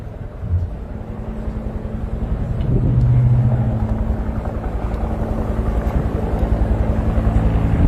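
Bell UH-1H military helicopters fly an aerial display at a Nigerian Army passing-out parade. A steady, moderately loud rotor and engine drone persists throughout, swelling slightly midway.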